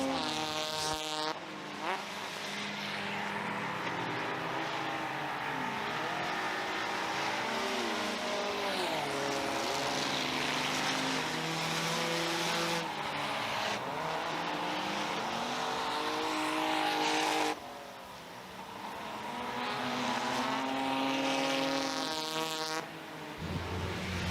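Race cars roaring around the oval at Merrittville Speedway, loud engines revving and sweeping past close by in a steady stream, the sound rising and falling as cars pass, with brief lulls between waves.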